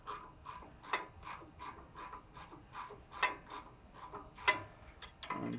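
A wrench works a Gen 2 Ford Raptor suspension end link loose, giving a run of quick, close metallic ratcheting clicks and scrapes in irregular bursts, faint overall with no talking.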